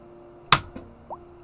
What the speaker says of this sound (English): I'm gonna get him with the banana.